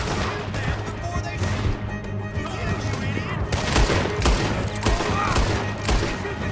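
Red Dead Redemption 2 gunfire from a shootout on horseback crackles steadily throughout, dense volleys of shots and booms over a loud background, with voices mixed in.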